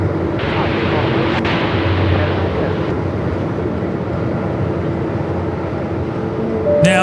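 A Qantas airliner lands at Melbourne Airport in strong, gusty wind, heard as a loud, steady roar of engines and wind that holds without pause for several seconds.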